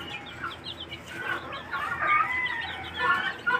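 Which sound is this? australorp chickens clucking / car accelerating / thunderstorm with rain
australorp chickens clucking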